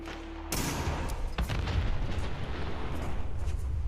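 A loud explosion in the fantasy role-playing video game Dragon Age: Origins bursts in suddenly, then a heavy, sustained rumble and roar lingers for several seconds.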